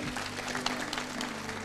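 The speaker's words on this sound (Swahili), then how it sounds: "Tuwapigie makofi" Brief, steady round of applause from a church congregation, dense clapping over a low hum from the hall's sound system.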